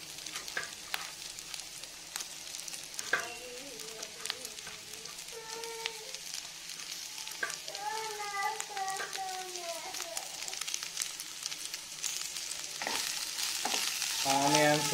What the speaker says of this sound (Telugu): ఆనియన్స్ కొద్దిగా కలర్ చేంజ్ అయ్యే వరకు వేసుకోవాలి ఫ్రెండ్స్.